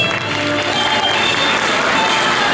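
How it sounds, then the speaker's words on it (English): An audience at a Derby inauguration ceremony fills the room with steady, dense applause and crowd noise, loud and continuous throughout. "Please give them a nice round of applause."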